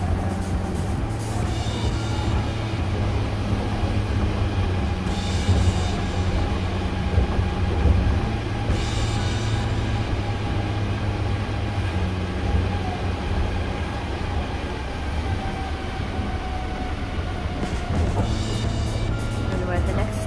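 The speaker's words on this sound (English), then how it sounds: "This is the most fun train ride I've ever been on." Osaka monorail ride from the airport toward Kyoto, with a steady low rumble and hum of the car in motion, continuous throughout, and brief brighter whirring swells.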